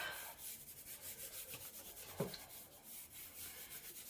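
A laser print is rubbed by hand onto a gel plate, making a soft, steady scuffing with a faint repeating rhythm and one small tap partway through, all quiet and close.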